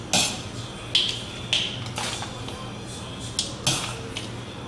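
Cold Asian noodle salad with cilantro is tossed in a bowl, with a handful of light clinks and scrapes of utensils against the dish spaced irregularly, fairly quiet and close.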